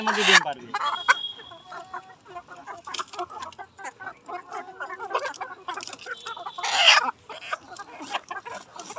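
Laying hens on a layer farm clucking and cackling just before laying eggs, in uneven bursts, some louder squawks rising above a busy mix of several birds close by.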